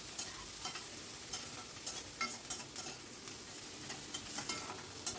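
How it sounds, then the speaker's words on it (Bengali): Chopped onion frying in oil with cumin in a pan over high flame, a continuous crackling sizzle broken by repeated scraping stirs, close and alone with no talk. "তখন দিয়ে দিলাম কেটে রাখা পেঁয়াজ কুচিটা, দিয়ে একটু নাড়াচাড়া করে নিচ্ছি। একটু ফ্রাই করে নেব"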